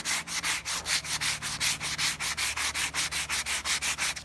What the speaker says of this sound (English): This is 100 grit abrasive.